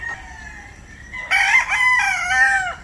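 Roosters in a fowl breeding pen crow loudly and close, one long crow then several overlapping crows and clucks, with steady low background hum and no talk.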